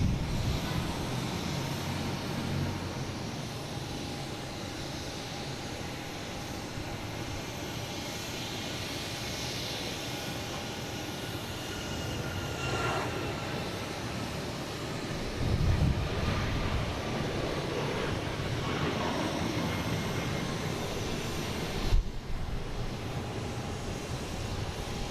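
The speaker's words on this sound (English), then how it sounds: "next taking off is WestJet, heading to Calgary" WestJet airliner taking off from Boston Logan International Airport, a distant, steady jet rumble and roar that rises slightly in the middle, with wind noise on the microphone.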